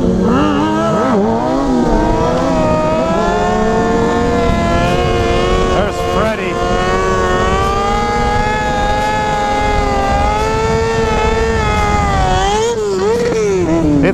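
Motorcycles revving hard while doing wheelies and stoppies in a parking lot, a loud continuous engine drone with rising and falling pitch sweeps, heard close and steady throughout.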